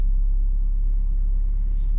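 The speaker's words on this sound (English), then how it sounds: "move the car forward." A 2018 SEAT Leon ST X-PERIENCE 4Drive creeps forward through snow off-road, its engine a steady, loud low rumble heard from inside the cabin with no other sounds.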